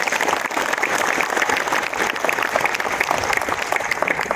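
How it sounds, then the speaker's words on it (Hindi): Steady, dense clapping from a crowd at a company foundation day celebration in Jalpaiguri fills the space, a sustained round of applause without pause. "आप लोग सर के लिए ज़ोरदार तालियां हो जाए।"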